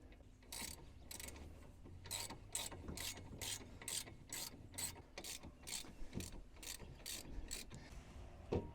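A hand ratchet clicks in quick, close bursts while tightening a large Brembo 4-pot brake caliper onto an Acura RSX, with short pauses between strokes.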